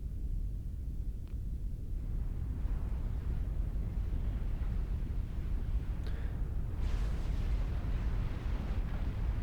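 Nuke explosion in the real-time strategy game Supreme Commander 2, during a 4v4 match on the Tourney Dome Core map, heard as a deep, sustained rumbling roar that fills the whole span at an even, heavy level.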